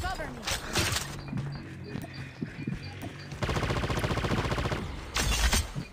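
Bursts of rapid automatic gunfire in a battle royale video game, a dense sustained volley in the middle of the clip with scattered shots around it, loud and close, while players talk over the action.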